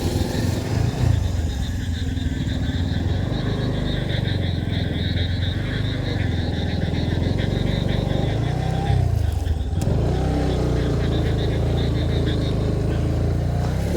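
A motor vehicle engine drones loudly close by with a buzzing, steady tone that swells and shifts in pitch as it passes, set over busy outdoor background noise.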